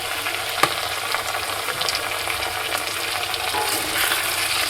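Spice mix with tomato sauce being stirred in a pan over low heat, a steady moderate sizzle with occasional sharp clinks of a spoon against the pan and no voices.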